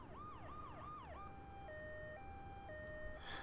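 An ambulance siren in the video game Grand Theft Auto III gives a few quick yelping sweeps, then switches to a steady alternating two-tone hi-lo pattern, faint and heard over low background noise.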